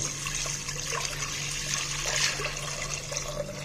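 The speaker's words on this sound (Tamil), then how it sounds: "இதில் 1 டம்ளர் கவுனி அரிசி, அந்த குருணைக்கு 8 டம்ளர் தண்ணி ஊற்றணும்." Water is poured steadily into a pressure cooker holding black kavuni rice grains for payasam, a continuous trickling splash that stays even and close throughout.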